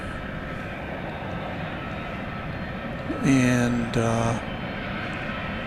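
Jet engines rumble steadily at DFW Airport at night as a UPS A300 cargo plane prepares to taxi, a brief two-part tonal whine rising over the roar midway while a voice speaks briefly.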